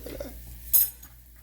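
Grilled cheese flipped in a pan on a stove, a brief metallic scrape and clink of a utensil against the pan, close and short, with a soft rustle before it.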